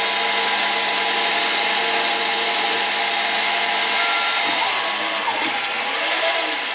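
A Mach3-controlled CNC lathe parting off a threaded part, giving a steady, loud broadband machining noise with a sustained high whine that continues throughout and shifts slightly near the end, with no voices.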